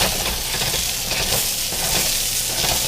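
Dumplings fry in a non-stick pan with a loud, continuous close-up sizzle and crackle of hot oil that holds steady throughout, without speech.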